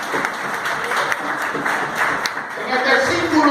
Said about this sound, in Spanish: Den un aplauso al Señor esta noche.